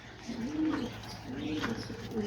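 Pigeons cooing in a backyard loft, two soft rolling coos a second apart, close by and steady over a low background hum, with no talking.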